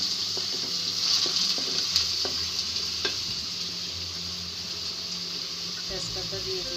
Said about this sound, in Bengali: আমি এখন আদা বাটা রসুন বাটা দিয়ে দিচ্ছি।